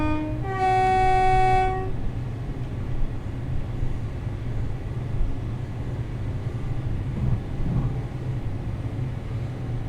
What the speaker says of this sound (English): I'm going to shut off the power and allow the train to coast once we reach the level crossing